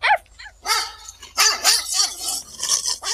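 Dogs barking inside a car, a burst of sharp, close, fairly loud barks and yips at an uneven rhythm, with a whimper mixed in.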